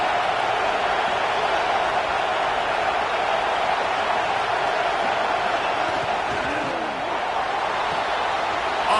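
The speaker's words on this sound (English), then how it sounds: "Third down play in the red zone, and this crowd is at fever pitch." A stadium crowd at a football scrimmage, Syracuse at Tennessee, keeps up a steady, loud roar of massed voices on a third-down play in the red zone, an even wash of noise throughout.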